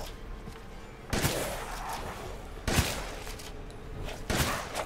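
Bursts of gunfire in the Resident Evil Village video game, three loud volleys spaced about a second and a half apart over a steady noisy backdrop.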